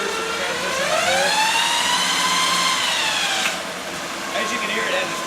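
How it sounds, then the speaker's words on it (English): A straight-cut planetary transmission on a dyno gives a loud, high gear whine that rises and falls in pitch over a steady engine roar, sweeping up and easing off before climbing again. "As you can hear, it has a straight cut planetary in it."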